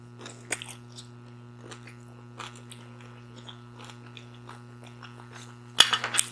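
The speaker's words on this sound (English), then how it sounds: "You chew that up." Crunchy homemade coleslaw is chewed up close during a barbecue rib meal, with soft, irregular crunches and bites over a steady low electrical hum and one sharper crunch near the end.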